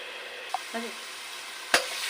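Ingredients for chotpoti fry in a pan before the potatoes go in, giving a soft, steady sizzle with a couple of sharp utensil clinks from stirring.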